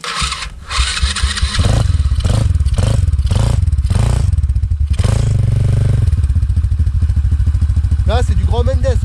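A Chinese quad bike engine starts with a few thumping cranks, then catches and revs in repeated loud bursts up close, while someone talks over it.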